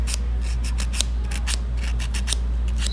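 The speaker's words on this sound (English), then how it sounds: "magsistart tayo with buffing the nails" A nail buffer rubs over fingernails to roughen them before gel removal, making a quick run of crisp, evenly spaced scratchy strokes, close and clear with no talking.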